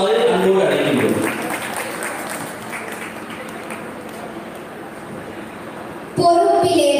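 An audience at a Tamil literary debate celebration applauds to welcome a speaker, a dense wash of clapping that thins to a steady patter before a voice cuts in loudly at the end.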